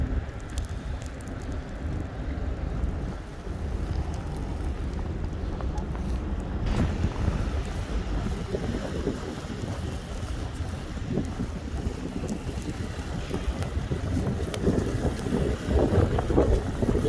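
Strong, gusty wind blowing past downtown skyscrapers in Montreal during a February snowstorm, a steady loud roar with buffeting rumble against the microphone, continuous throughout with no talking.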